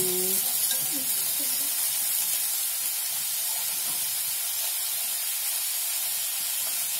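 Tofu and bean sprouts stir-fry being stirred in a pan with salt, stock and sugar seasoning, a steady close sizzle and hiss running throughout with soft scraping from the spatula, no talking.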